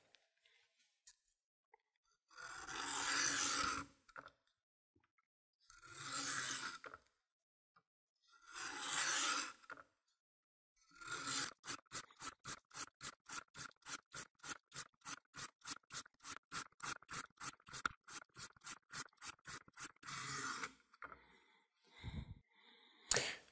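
Knife sharpened on a ceramic plate with single strokes alternating sides: a few long separate swipes, then a fast, even run of short rhythmic scrapes, close and clear with no talk.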